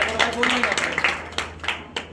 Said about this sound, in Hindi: ताली बजाओ भाई पहले